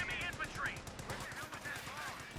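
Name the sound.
machine gun fire in a WWII strategy video game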